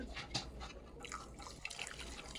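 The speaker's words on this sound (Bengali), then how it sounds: "তারপরে আমি ওর মধ্যে দিয়ে দিলাম দুধ" Milk trickles and splashes softly into a bowl of lachha semai, a faint, brief liquid pour with light drips.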